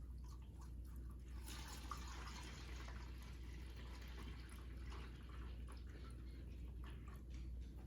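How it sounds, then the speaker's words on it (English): Whole milk pours from a gallon jug into a gallon pitcher, a soft, continuous filling gurgle with faint drips, close by and quiet in a still room. "we are going to add half of our gallon into our gallon pitcher"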